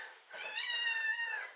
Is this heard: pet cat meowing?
yes